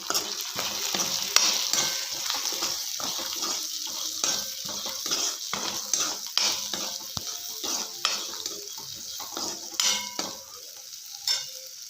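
Chili powder and spices are stirred into hot oil in a frying pan while a ridge gourd palya is being made. A steady sizzle runs under repeated scraping strokes of a spoon against the pan. No one talks.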